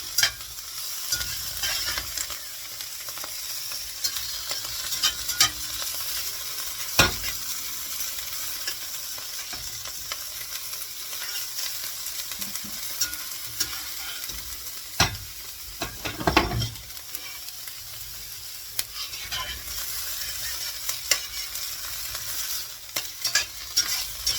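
Mushrooms fry in a pan with a steady crackling sizzle, broken by occasional louder scrapes and stirring knocks; no one speaks.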